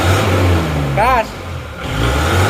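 A car engine with a damaged liner and piston after running out of radiator coolant, revving close by with a rising and falling note and a brief lull, under a voice.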